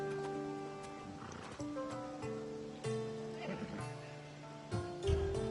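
A horse in Assassin's Creed Odyssey whinnies and snorts in short bursts, with hooves thudding underneath, set against steady game music that carries on throughout.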